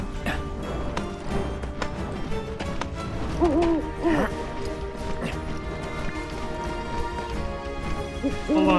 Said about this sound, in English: To hear an owl.